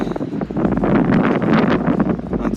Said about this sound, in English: I think it's a little too windy right now.